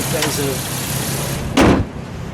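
A 2001 Ford Explorer Sport with its original high-mileage engine and transmission runs at a steady idle, a low even hum under brief speech, with a short sharp knock or bump partway through.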